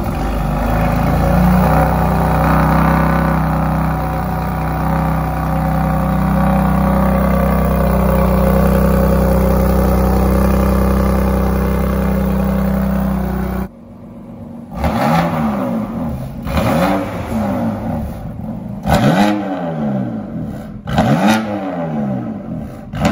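A BMW M3 with an IJzerman aftermarket exhaust and tailpipes fitted, idling with a loud, steady low rumble, then cutting out and breaking into a run of sharp, close revs that swell and drop away several times.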